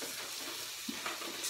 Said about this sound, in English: And I'm stir-frying that.